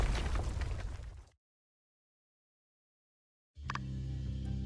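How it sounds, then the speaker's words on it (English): Booming blasts from the video game My Time at Sandrock: a heavy rumbling explosion fades to silence, then a second sharp burst follows with a lingering low rumble. "Explosions."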